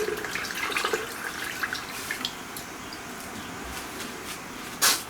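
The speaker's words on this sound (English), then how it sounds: "I just rinse it in some warm water" Warm water running and splashing as key cups from a 1925 Holton alto saxophone are rinsed over a bucket below a workbench, a close, steady trickle with a few small clinks and a sharper splash near the end.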